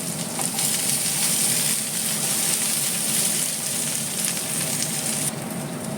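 Vegetables and paneer for navratan korma fry in a pan with a loud, dense, steady sizzle that stays close and continuous throughout and eases slightly near the end, with no talking.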